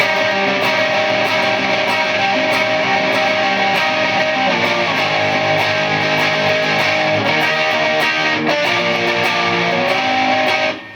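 Distorted electric guitar strums sustained bar chords, loud and continuous with a thick, saturated tone, shifting chords every couple of seconds, with no voices.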